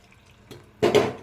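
Water splashes into brinjal curry masala in a cooking pot for a Khandeshi vegetable dish, arriving as a short, fairly loud pouring burst near the end after a quiet stretch.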